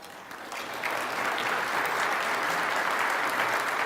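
Applause from the audience at an evening award announcement event for the Earl Campbell Tyler Rose Award, a steady, dense wash of clapping that swells slightly after the start and holds evenly throughout.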